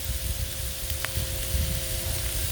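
Hamburger meat sizzles steadily on a Blackstone griddle, a close, continuous hissing fry with a faint tonal hum underneath and a brief metallic tick near the middle.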